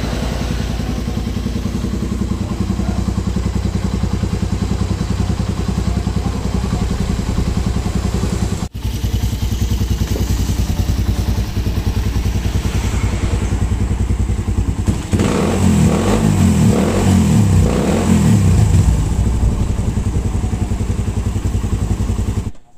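Carbureted Raider 150 motorcycle engine with about 88,000 km on it, running noisily and steadily up close, with a loud revving burst near the end.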